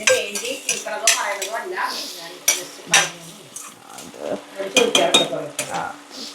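Indus brand pots and pans clink and clatter in a home kitchen during lunch cooking, sharp metallic knocks and scrapes coming irregularly and close, with faint sizzling underneath.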